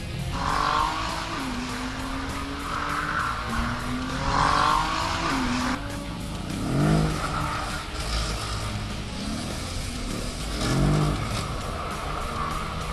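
A car slides with its rear stepping out under throttle in a sport stability mode, engine revving and tires squealing in repeated rising bursts as it is counter-steered, fairly close with no talking.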